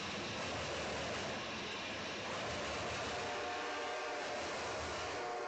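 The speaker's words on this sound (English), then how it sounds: "And here goes a pair of NS motors, 3 NS motors, going east." Freight train led by three Norfolk Southern locomotives rolling past eastbound, a steady broad roar of engines and wheels close by with no talk over it.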